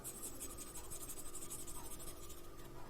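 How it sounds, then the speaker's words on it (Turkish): Yellow felt-tip marker coloring in paper triangles, a soft continuous scratchy rubbing of the tip on paper, faint and close, with no speech. "bunun yanındaki üçgeni ise sarı rengimle boyayarak üçgenlerimin tamamının içini boyayacağım"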